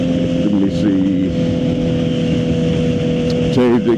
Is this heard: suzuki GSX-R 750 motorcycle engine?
yes